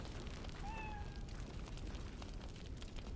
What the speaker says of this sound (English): Grumpy cat.